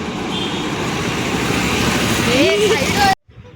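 A vehicle engine rumbling as it is driven and accelerating, a broad roadway roar with a voice briefly rising over it, before the sound cuts off abruptly near the end.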